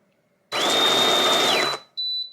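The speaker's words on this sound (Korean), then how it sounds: "그렇게 해서 그라인딩을 한번 해보겠습니다" An electric coffee grinder grinds beans fine for a moka pot in a home café setting, producing a loud, close whirring burst of about a second. A shorter second pulse follows.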